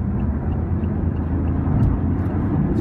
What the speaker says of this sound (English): That engine sounds pretty weird in the back.